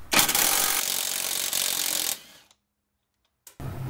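A ratchet working the 16mm tie rod nut on an Audi 4B/C5 during a CV boot job: a loud, fast rasping clatter for about two seconds, then silence, then a brief resumption.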